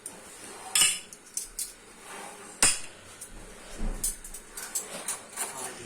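A spoon clinks against a dish while halwa is served in a Pakistani village kitchen: a few sharp metallic taps and scrapes spaced irregularly, close and fairly quiet, with faint background clatter.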